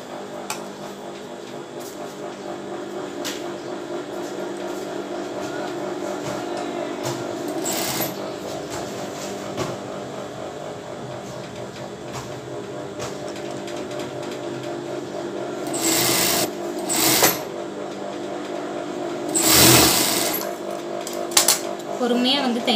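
A sewing machine runs steadily while stitching a bra, its hum continuous across the stretch with a few brief louder bursts of rapid stitching near the end, and a voice talking over it.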